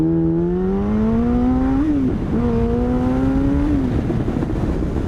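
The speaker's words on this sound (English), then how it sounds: "I just busted the tire loose in first and second gear, and this bike is super fun to ride." A Yamaha FZ1 sport motorcycle of the 2006–2015 second generation accelerates hard through first and second gear, its engine note climbing steadily, briefly dropping at the shift, then rising again, loud and close.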